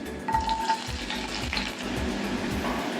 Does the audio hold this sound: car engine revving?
no